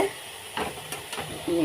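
Water is stirred into a magur fish curry with radish in a pan, a low simmering sizzle with a few brief scraping strokes of a spoon, close and fairly quiet, without speech.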